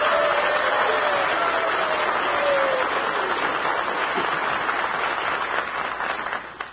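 A radio studio audience cheers and applauds for the Alabama Crimson Tide, sustained loud clapping that gradually thins out toward the end.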